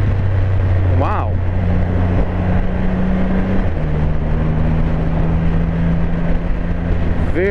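Engine of a 2021 Triumph Rocket 3 GT motorcycle ridden in third gear at about 53 mph and 3000 rpm, a steady loud drone under heavy wind rush, with a voice talking over it.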